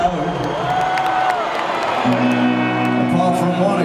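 A concert crowd at a show at the O2 in October 2011 cheers, whoops and applauds in a loud, steady roar that runs through the whole stretch, with a voice speaking over it.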